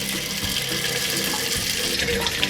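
Water streaming from a homemade faucet at a log cabin sink, fed by a rainwater tank: a continuous, loud, close hiss and splash that holds steady without a break.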